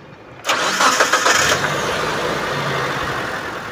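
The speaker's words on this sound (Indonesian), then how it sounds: "Sekarang kita coba cek suaranya dari langsam sampai kita naikkan RPM." A 2014 Mitsubishi T120SS pickup truck engine cranks and catches, then settles into a steady, even idle that continues close by.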